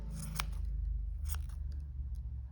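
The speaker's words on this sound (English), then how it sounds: "it's really good to use really sharp scissors. And then we can just go through and give it a nice trim." Sharp scissors trim the strands of a handmade tassel, giving a couple of crisp, close snips over a soft, steady background.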